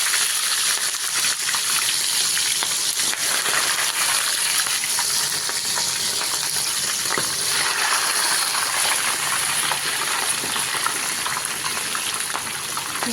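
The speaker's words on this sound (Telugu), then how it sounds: "నూనె బాగా కాగిపోయింది ఫ్రెండ్స్. ఇప్పుడు చికెన్ దీంట్లో వేసుకుందాం." Chicken frying in hot oil, a loud, dense, continuous crackling sizzle close by, steady throughout with no voices.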